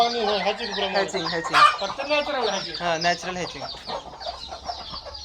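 A broody hen sitting on eggs on a village poultry farm makes low, repeated clucks and grumbles up close, with some background farm sounds and brief talk.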